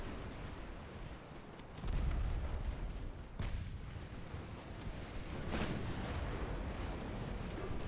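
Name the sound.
battleship secondary guns firing at cruisers, from a video game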